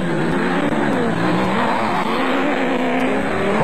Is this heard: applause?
no